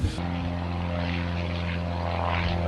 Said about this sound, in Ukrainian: в основному в них літаки часів Другої світової війни